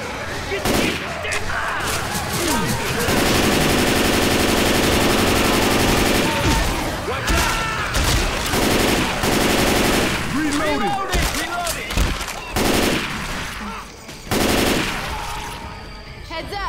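Sustained automatic machine gun fire in the Left 4 Dead 2 co-op Swamp Fever campaign, loud and continuous with brief pauses and bursts, while players shout and talk over it.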